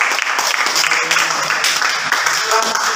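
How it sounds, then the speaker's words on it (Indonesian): A classroom group applauds during a teacher-training session, giving steady, dense clapping that fills the whole stretch at a fairly loud, even level, with faint voices mixed underneath. "Ya, tepuk tangan kelompok."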